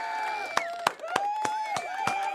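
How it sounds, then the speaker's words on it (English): A crowd cheers and claps, with sharp, evenly spaced claps standing out over a steady murmur of voices. "Round of applause to Suge again."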